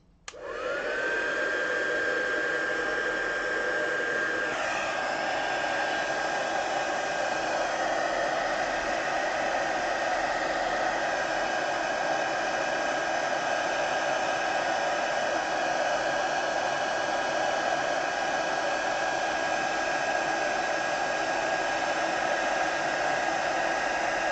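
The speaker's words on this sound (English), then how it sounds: "I'm going to use the heat tool and I'm just going to melt that now." A heat tool melting embossing powder blows with a steady, loud whooshing roar that starts abruptly and continues unbroken, with a faint whine riding on top.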